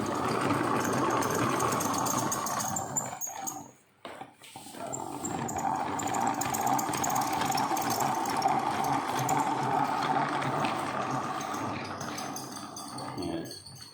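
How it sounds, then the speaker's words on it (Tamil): A small hand-cranked honey extractor spins raw honeycomb, giving a steady mechanical whirring and rattling that runs throughout, breaks off briefly near the four-second mark, then resumes at the same pace, close by with no talking over it. "நம்ம இந்த பக்கம் ஒரு பத்து சுற்றுங்க அந்த பக்கம் ஒரு பத்து சுற்றுனா தேன் வந்துடுங்க"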